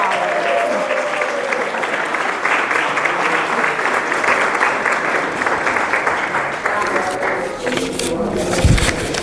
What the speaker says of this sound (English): Let's give another big round of applause for all of our scholars